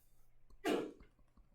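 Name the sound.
sneeze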